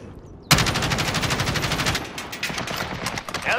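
Assault rifle gunfire in Call of Duty: Modern Warfare, a sudden loud burst of rapid automatic shots that continues as sustained fire with brief pauses, close and dominant.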